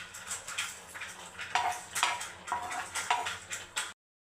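Green chilies and curry leaves dry-frying on a tawa without oil, with soft irregular sizzles and the light scrape and clink of a utensil stirring them at a steady pace, fairly close and quiet, ending in a brief silence.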